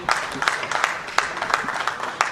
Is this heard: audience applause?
yes